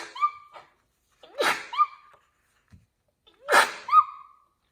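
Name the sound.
sneeze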